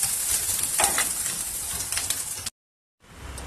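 Capsicum frying in oil in a pan, a bright crackling sizzle with a few stirring scrapes, close and steady, then a short silent gap before the sizzle resumes more faintly.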